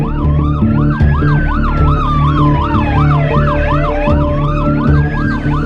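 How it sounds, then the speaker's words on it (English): Emergency vehicle warning sirens sounding loud and close, a rapid yelp-style wail cycling up and down overlapping a slower rising and falling wail, alongside a steady electronic tone. "So we offer sirens,"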